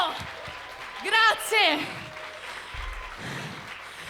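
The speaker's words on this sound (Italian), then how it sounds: "grosso applauso!" Audience applause at a live concert at Art Voice Academy, a broad wash of clapping running steadily beneath a singer's voice thanking the crowd.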